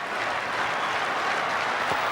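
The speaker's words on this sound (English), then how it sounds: "Crowd is screaming as Thompson comes in from the members' end." A cricket crowd in Perth roars and applauds as fast bowler Jeff Thompson runs in from the members' end, making a steady, loud wash of cheering and clapping throughout.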